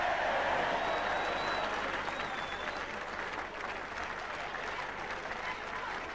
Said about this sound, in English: And a special cheer for the hero in the second innings, Bob Willis, who took 5 wickets for 88.